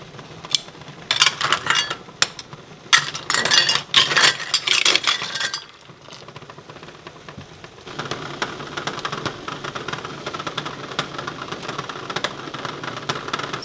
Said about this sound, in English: So now that we've let it boil for a minute, we're ready to put it in the jars